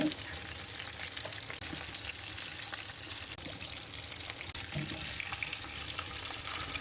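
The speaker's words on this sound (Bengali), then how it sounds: "মাছ ভাজা হয়ে গেছে, আমি একটু ব্রাউন কালার করে ভেজে নিয়েছি।" Rohu fish pieces fry in a pan, a steady close-up sizzle with watery bubbling and faint clicks running continuously, no voices.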